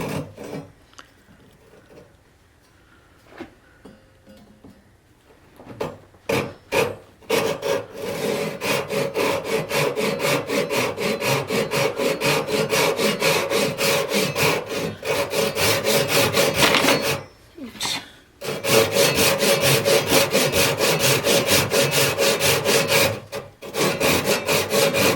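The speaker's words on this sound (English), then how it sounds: "now I'm going to take a chunk of this off with the, not with the Dazuki, with a Ryobi" A Ryobi Japanese pull saw, using its rip teeth, cuts lengthwise through a wooden blank for an axe handle in steady, fast rasping strokes after a quiet start, pausing briefly twice before resuming.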